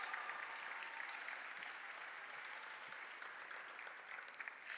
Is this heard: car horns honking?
no